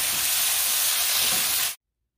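Pork ribs with sweet peppers sizzle steadily in a hot wok, a loud continuous frying hiss for under two seconds before cutting off abruptly into silence.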